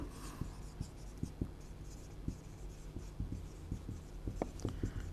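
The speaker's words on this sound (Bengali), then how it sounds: "তোমাদের প্রশ্নটা আমি লিখে দিচ্ছি তোমাদের" Pen writing on paper while a question is set down for students, a close series of light scratchy taps and strokes at an irregular pace, with no talking.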